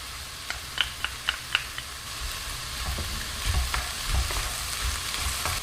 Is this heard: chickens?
no